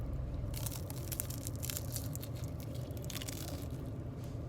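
Crunchy bites of small baby shrimp being chewed up close, a dense run of crisp crackling crunches over roughly four seconds with no talking.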